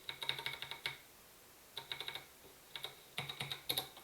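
Typing on a computer keyboard in short, rapid bursts of crisp key clicks separated by brief pauses, close and fairly quiet, with no talking.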